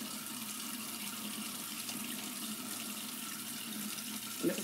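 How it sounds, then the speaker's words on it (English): Hot water runs steadily from a tap as a constant broadband hiss throughout, with a brief louder splash near the end; no voices. "you want to run your hot water and you want to spray the inside of the nozzle"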